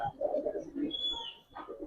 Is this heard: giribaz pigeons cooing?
yes